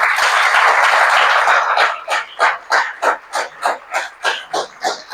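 Audience clapping at a youth Constitution Day speech, starting as a dense wash of applause, then settling into slower, rhythmic unison claps, loud and close with no talk over it.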